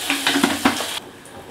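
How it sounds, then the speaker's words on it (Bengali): Salt and black cumin frying in hot mustard oil: a brief burst of crackling sizzle with a few quick spoon taps against the pan, close, cutting off abruptly after a second. "অল্প করে নুন দিয়ে দেবো তেলের মধ্যে।"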